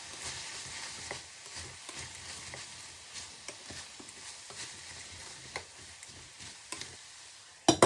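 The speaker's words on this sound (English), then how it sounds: "Stir and place on a lid." Onion soup with thyme, a bay leaf and crushed garlic is stirred in a pot, giving a soft steady sizzle broken by scattered scraping and clicking knocks, with a louder clatter at the very end.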